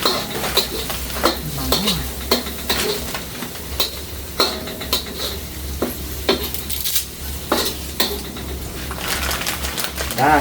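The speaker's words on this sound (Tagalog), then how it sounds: "Para pagpantay yung luto ng bawang." Garlic being stirred and fried in a pan, with continuous sizzling and repeated rapid scraping and clattering of a utensil against the pan, close and busy, with a low steady hum underneath.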